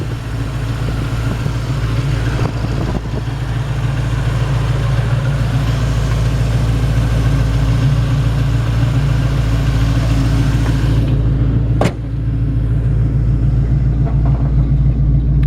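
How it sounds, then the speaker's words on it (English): A 1970 Mustang convertible's 351 Cleveland 4-barrel V8 idles nearby with a steady, deep, smooth rumble, loud and constant, with a brief click near the end and no talking. "Nice, smooth, and strong running 351 Cleveland 4-barrel."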